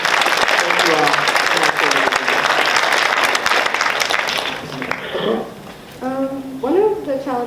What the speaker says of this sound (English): Can we just give a big round of applause to the parents, teachers, mentors, educators here?